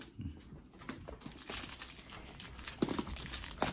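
Adhesive tape is pulled and crumpled in a dense, close crinkling with brief tearing bursts and irregular crunches. The sound runs continuously at a fairly faint level, with no talking.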